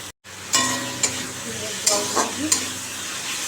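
Onions and a tomato fry in a pan with cumin powder, salt and turmeric, a steady close sizzle broken by a few sharp clinks of a spoon stirring against the pan.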